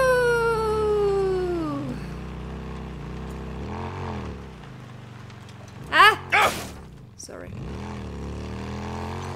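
A cat meowing in Days Gone, with drawn-out falling cries at the start and a couple of short sharp meows later, heard over a low engine-like hum and background game ambience.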